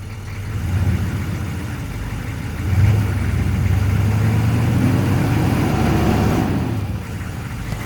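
A 1996 6.5L diesel truck runs in reverse gear with a steady, low engine rumble that swells slightly around the third second and holds before easing off near the end. No voices are heard.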